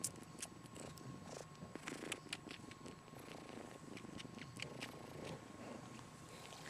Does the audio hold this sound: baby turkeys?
no